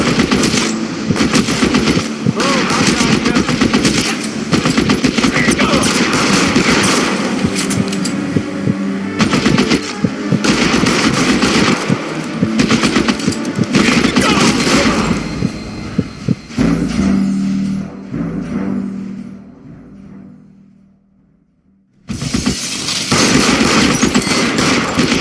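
Rapid bursts of gunfire from the crime video game L.A. Noire, loud and dense for long stretches, fading out briefly near the end before the shooting resumes abruptly.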